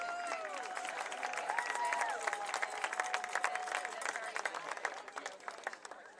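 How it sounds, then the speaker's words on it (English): Crowd applauding and cheering for senior cheerleaders at a Division III college football game, Berry at Centre, with dense steady clapping and scattered whistles under a distant public-address voice, holding fairly even throughout. "let's have a big round of applause for all of our seniors."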